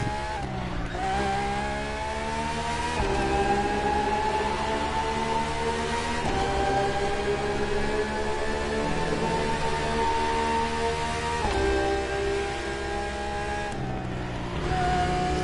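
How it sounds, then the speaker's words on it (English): A loud, high-revving car engine in The Crew Motorfest roars continuously, its pitch climbing and dropping sharply with each gear change, with no talking. "crazy looking cars have crazy sounding engines"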